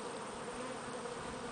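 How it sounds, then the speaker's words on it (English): A caught swarm of honeybees kept in a shed hums with a dense, steady buzz from many bees at once, close and unbroken, with no voices. "an update on the swarm of bees my son and I caught"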